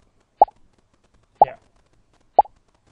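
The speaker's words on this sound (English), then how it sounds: "Start sound pop." Scratch's built-in "pop" sound effect plays three times in a dodge ball game, each a short, sharp, close plop spaced about a second apart, with quiet gaps between and no talking.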